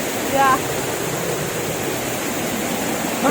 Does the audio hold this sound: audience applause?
no